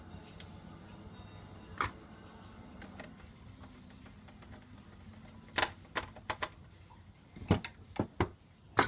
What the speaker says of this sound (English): Got to screw this together because this isn't a joint we want to come apart.